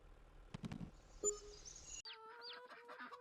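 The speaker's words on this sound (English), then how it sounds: "we'll see those first set of chicks and ducklings grow up into chickens and" Farm chickens and ducks in Farming Simulator 22, a few close clucks and squawks followed by brighter, drawn-out bird calls, heard alone with no talk.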